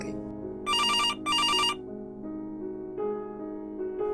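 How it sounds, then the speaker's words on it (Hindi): A telephone rings in a home with two quick electronic bursts close together, followed by softer tones over a quiet, sustained musical background. "फिर अचानक टेलीफोन की घंटी बजी।"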